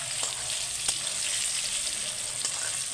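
Pumpkin pieces frying in oil with turmeric, a soft continuous sizzle with a few sharp stirring clicks and no voices.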